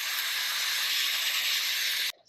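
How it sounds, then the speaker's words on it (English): A continuous spray hisses onto a Land Rover engine part near the pulley and belt, steady and close, then cuts off abruptly near the end. "All right, let's give it one more spray down."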